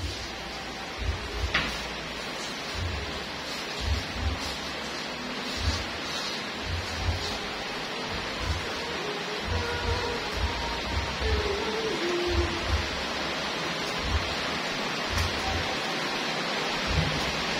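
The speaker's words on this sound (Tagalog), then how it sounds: "Lalakas ang ulan." Heavy rain pours steadily outdoors at an urban garden while string beans are being planted, with occasional low thumps of distant thunder under the dense hiss.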